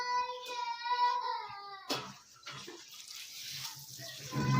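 Water pours through a hose into a household washing machine in a home bathroom. A short wailing cry comes first, then a steady rushing stream of water that runs to the end.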